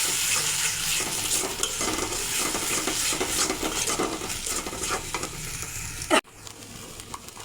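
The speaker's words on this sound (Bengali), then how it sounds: "এবার মশলাটা ভালো করে কষিয়ে নেব।" A spice paste with turmeric and coriander powder fries in hot oil and is stirred and scraped, making a loud, busy sizzle with rhythmic stirring scrapes, ending in a sharp clack before the frying drops away.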